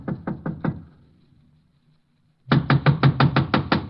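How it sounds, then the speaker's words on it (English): Knocking on a door in a 1949 radio drama: a quick series of four sharp raps, a pause, then a longer, louder run of about eight knocks, close and clear. "I'll give it a knock."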